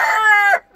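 A farm rooster lets out a single loud, close crow that lasts about half a second and then cuts off, followed by quiet.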